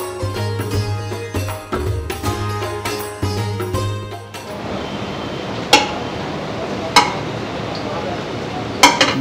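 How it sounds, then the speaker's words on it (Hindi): A metal ladle clanks and scrapes against a big pot of nihari at a Delhi eatery: busy rhythmic clatter at first, then a calmer stretch broken by three sharp, loud metallic strikes, with kitchen hubbub underneath. "नहारी की देग और चम्मच के टकराने की आवाज़ दरअसल महज एक शोर नहीं है"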